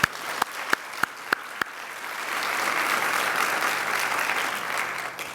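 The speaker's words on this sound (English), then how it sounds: "so let's give them one last round of applause." School-district audience at a Teacher of the Year ceremony: a few sharp, evenly spaced early claps, then a full round of crowd applause swelling and holding steady.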